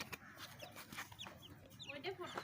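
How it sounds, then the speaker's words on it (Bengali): Rooster clucking softly nearby, a few short, faint clucks and fluttering scuffles as someone handles it, with quiet voices talking in between. "এটা মোরগ হবে নিশ্চিত।"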